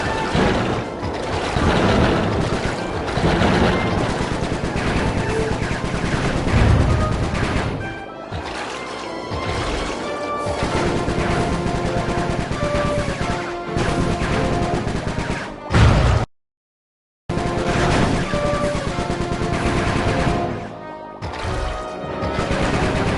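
Bentley's shooting in Sly 3: Honor Among Thieves crackles as repeated gunfire bursts and crashes over busy game noise, with one brief silent gap.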